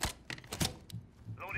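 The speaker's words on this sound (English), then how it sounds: "Loading mag." A weapon magazine being reloaded in the shooter game Rainbow Six Siege, with a few sharp metallic clicks and clacks in quick succession and a brief radio-style voice near the end.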